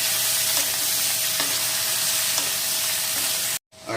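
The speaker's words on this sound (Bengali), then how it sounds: "আর এখন লবণ হলুদটা একবার ঝিঙার সাথে ভালো করে মিলিয়ে নেব" Ridge gourd with salt and turmeric being stirred in a pan, a steady close sizzle with a few regular scraping strokes of a spatula before it cuts off abruptly.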